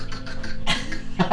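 Two short, harsh coughs break through a low background murmur, close by and fairly loud.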